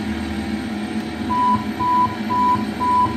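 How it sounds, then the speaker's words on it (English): Autopilot disconnect alert in a home flight simulator: four evenly spaced electronic beeps, steady and moderately loud, repeating about every half second over a constant low hum of fans and equipment, with no talking. "Tells me the autopilot just went off."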